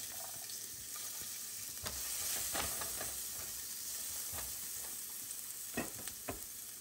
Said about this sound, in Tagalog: So, mainit na yung mantika. Teka muna. I-adjust natin. So, first guys, igisa natin itong sibuyas.